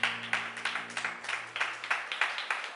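A church congregation claps in a regular, rhythmic beat of about a dozen sharp claps, with a low sustained musical tone fading out underneath near the start.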